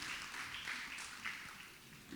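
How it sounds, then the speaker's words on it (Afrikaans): A church congregation claps hands together in praise, a soft, dense patter of applause that runs steadily throughout, heard from some distance in a large room. "Kom ons gee die Here 'n lekker hande klap."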